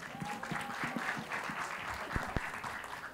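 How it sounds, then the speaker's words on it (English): Applause from the audience at a film trailer launch event, a steady wash of clapping at moderate, somewhat distant level with a few sharper claps standing out near the end. "Please give him a big round of applause."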